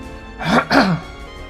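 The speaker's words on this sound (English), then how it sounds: "Clear my throat here" Two quick, close throat-clearing bursts in a row, loud and rough, with quiet surroundings before and after.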